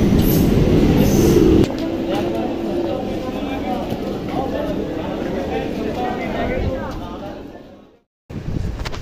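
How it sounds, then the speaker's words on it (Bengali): Train pulling into Bishnupur station, a loud continuous rumble and wheel noise with faint squeals, steady before fading away to near silence, then a brief burst of noise returns; a voice speaks briefly over it. "ট্রেন ঢুকে গেছে।"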